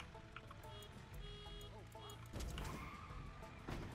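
A car drives and skids in the video game Goat Simulator 3, engine noise and tire scrapes building over four seconds with game effects layered in and louder bursts near the end.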